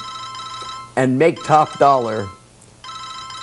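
A mobile phone ringtone chirps in repeated bright electronic bursts, sounding before and after a stretch of close male speech that briefly overlaps it.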